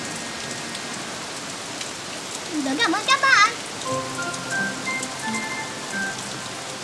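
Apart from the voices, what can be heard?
rain falling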